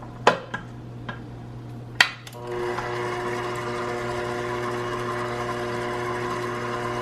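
Electric stand mixer beating butter, sugar, eggs and vanilla into cookie dough, starting after a few clicks and knocks, then running as a steady, close motor whir with a constant hum for the rest.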